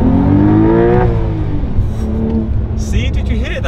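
A manual 2023 Porsche 992 Carrera T engine revs hard between 6,000 and 7,000 RPM, heard from inside the car as a loud, rising and falling mechanical howl while someone talks over it.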